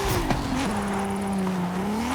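A car drifts in a racing video game played on a steering wheel setup, its engine holding a steady high drone while the tires squeal in short bursts, loud and close throughout.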